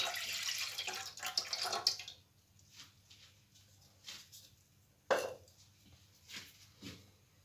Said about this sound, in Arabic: نحط الجو دورانج تاعي، عندي 500 ملل نص لتر